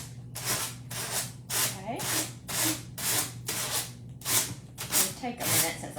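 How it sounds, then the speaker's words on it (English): A 220 grit sanding sheet rubs steadily over a decorative book, with about nine regular strokes in an even back-and-forth rhythm. The sound is close and fairly loud, with brief pauses between passes. "this is a 220 grit sanding sheet. And all you do to just get that off, we're just going to sand"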